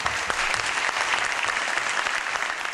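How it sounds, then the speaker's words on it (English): Audience applause at a youth debate-style show in Ghana, a dense continuous clapping from a crowd at moderate level, steady for the whole stretch with no speech. "A round of applause for Gabriel Atta-Shrem."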